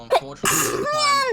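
One loud, explosive sneeze bursts out close up after a small throat sound, and a person then speaks right afterward.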